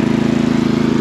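The engine of an Ariens Pro 28 Hydro EFI snow blower runs with a loud, close, steady low drone and a fast regular pulsing throb, heard briefly on its own.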